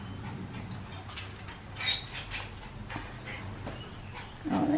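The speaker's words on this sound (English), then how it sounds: "My little doggy is going mad here." A pet dog gives faint whimpers and soft yips in a room, with a sharper bark-like burst near the end, all fairly quiet and distant with no one talking.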